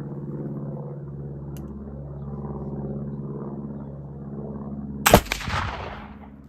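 A test shot of remilled Swiss black powder: a low, steady hum runs for about five seconds before a single sharp, loud report cracks out, followed by a short rumbling decay.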